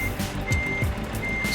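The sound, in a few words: truck reversing beeps, Scania in Euro Truck Simulator 2 video game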